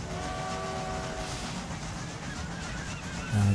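A train runs steadily along the tracks in the Railway Empire 2 video game, with a constant rolling rumble and a brief horn-like tone, while no one speaks.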